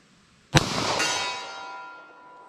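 A single .40 S&W pistol shot using Winchester white box 180 grain ammunition, fired at steel 75 yards away: a sharp crack followed a moment later by a bright metallic ring that fades slowly.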